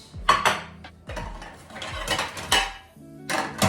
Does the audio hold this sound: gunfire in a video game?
no